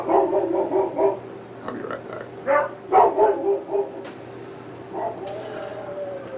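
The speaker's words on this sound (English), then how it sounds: "And dog's barking again." A dog barks repeatedly nearby, several short barks in uneven bursts mixed with yips, over a low steady background hum.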